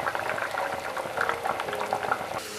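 Breadfruit curry with ground coconut paste bubbling steadily in a pot, the oil risen clear on top, a close, soft, continuous simmer of popping bubbles with no talk.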